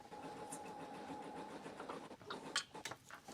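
An embroidery machine stitching out an appliqué on a shirt hums steadily with a fast repetitive needle chatter, faint in a room, with a few clicks and knocks toward the end and no talk.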